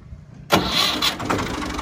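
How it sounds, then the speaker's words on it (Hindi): A tractor engine starting at a small cotton mill, near and loud: a short quiet lead-in, then a sudden cranking catch into a rough, steady running rumble. "ट्रैक्टर स्टार्ट हो गया"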